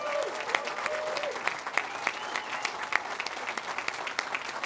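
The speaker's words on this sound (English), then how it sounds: "Let's give Brad another round of applause." Sustained applause from a crowd at a political leadership launch, dense steady clapping with sharp individual claps standing out, fairly distant and even throughout.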